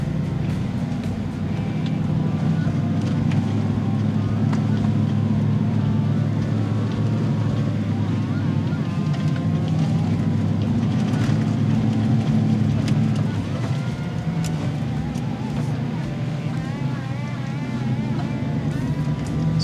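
Chevy Silverado ZR2 pickup crawling along the Laguna Hills Roller Coaster off-road trail in 4-wheel drive, a steady low engine drone with a rumbling body, heard from inside the cab and loud throughout.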